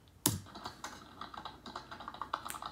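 Computer keyboard typing up close: one hard opening keystroke followed by a quick, uneven run of lighter key clicks.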